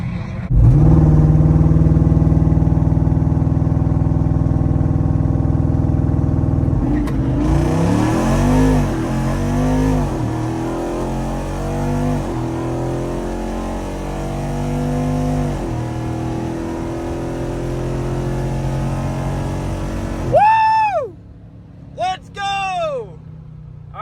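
A Jeep Wrangler Rubicon 392 on massive tires accelerates hard down a drag strip, its loud engine climbing through manually shifted gears in repeated rising sweeps, then fading as it pulls away.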